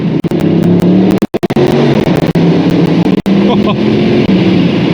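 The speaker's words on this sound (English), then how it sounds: "It is a relatively civilized V8 sound, but I just think they judged that to perfection." A BMW 750i G11 LCI with a 530 hp V8 accelerates on the Autobahn, giving a loud, smooth engine drone with climbing harmonics, briefly interrupted, as someone talks over it.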